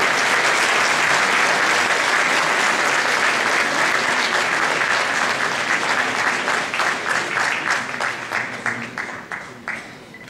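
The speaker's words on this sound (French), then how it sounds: "On les applaudit." A hall audience at a mayor's 2014 New Year's address applauds local firefighters, loud sustained clapping from a large crowd that gradually thins into separate, slower claps as it dies away.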